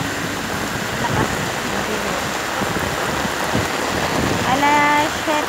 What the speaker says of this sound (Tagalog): Ganito kasi may bagyo siya.